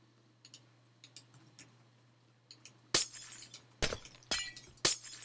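Glass in a building game cracks and chimes in soft scattered ticks, then four loud, sharp shattering bursts in quick succession.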